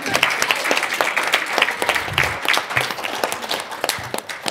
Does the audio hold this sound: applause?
yes